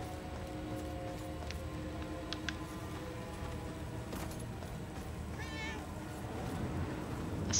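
A cat meows in the video game Murdered: Soul Suspect, giving a short rising-and-falling call around the middle, with a few brief higher chirps, over a steady rain-like ambient bed and some talk.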